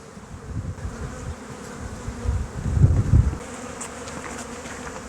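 Honey bees buzzing at a beehive frame, a dense close drone that swells briefly louder in the middle, with no talking.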